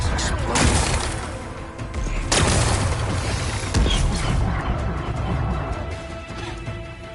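Rocks blasted apart in Horizon Forbidden West, heavy crashing booms at intervals with rumbling debris and mechanical clatter, loud and close.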